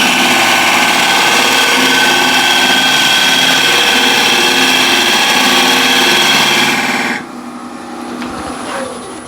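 A 180 grit CBN sharpening wheel grinds steadily and loudly for about seven seconds, a dense whirring hum that then cuts off abruptly, leaving only the quieter drone of the motor spinning down.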